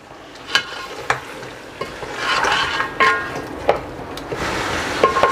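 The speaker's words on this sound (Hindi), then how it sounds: "और मज़ीद 2 मिनट तक इसको भून लूँगा।" Beef with ginger and garlic sizzling in a hot pot for haleem while a utensil stirs and scrapes, with occasional sharp clinks against the metal.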